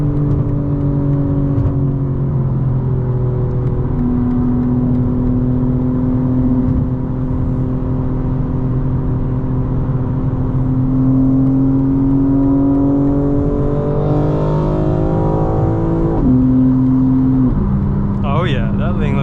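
A 2025 BMW M4 engine drones and pulls through the gears while driving on the road, steady close engine tone rising in pitch with shifts, under someone talking.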